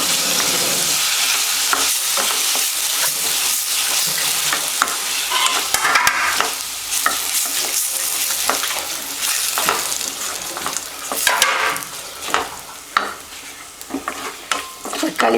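Tomatoes sautéing with ginger garlic paste in a pan give a steady, loud sizzle and frying hiss, broken by repeated scraping stirs of a spoon through the mixture, with no voices.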